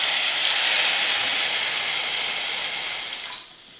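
Water poured into a pan of hot ghee while cooking a chicken tikka bowl, a steady close hissing rush that holds level for about three seconds, then eases and fades at the end.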